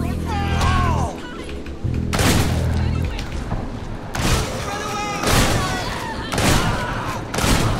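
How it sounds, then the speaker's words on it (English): Loud gunfire and shotgun blasts in the video game Hatred, several heavy bursts of shooting separated by short gaps, with a person's voice heard over the game sounds. "Yeah, I am shooting people."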